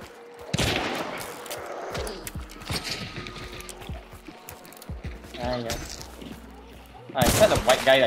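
Bursts of gunfire in the Hunt: Showdown video game: several sharp shots and clustered volleys, one near and loud at the start and a heavier burst at the end, with voices talking in between.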